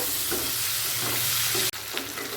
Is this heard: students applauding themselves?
no